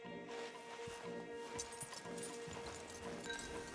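Horses walk along in Red Dead Redemption 2, a soft uneven clip-clop of hooves under faint game music and ambience, quiet and steady throughout with no speech.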